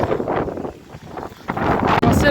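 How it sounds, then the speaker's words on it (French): Strong gusts buffet the microphone on a rocky mountain trail near Mont Cruvelier, loud roaring surges rising and falling, with a brief voice in the mix. "Par contre, il y a beaucoup de vent."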